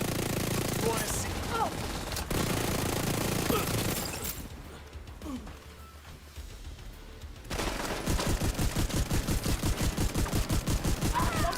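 Automatic weapon fire in The Division, loud sustained bursts at the start, a quieter lull, then a fast regular stream of shots near the end, with someone talking over it.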